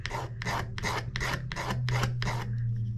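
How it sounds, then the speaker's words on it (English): A razor blade scrapes across a hardwood bridge blank for a Martin D-35 guitar, making seven even, rasping strokes in steady rhythm, close and loud, with no talking. "I'm going to take my razor blade and I'm going to shave it like this and use this as a shaver"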